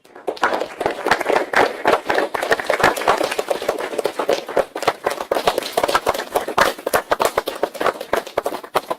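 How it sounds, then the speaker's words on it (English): A large crowd claps in a sustained, dense round of applause at a borough council meeting recognizing a group of boys, steady and close for the whole stretch. "we want to give you guys a massive round of applause"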